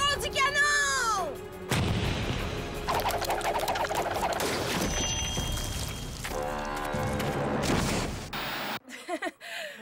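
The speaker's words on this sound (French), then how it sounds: "Tirons du canon!" Heavy cannon blasts boom out in sharp, broadband bursts over a busy backdrop of game sounds and effects, loud and close.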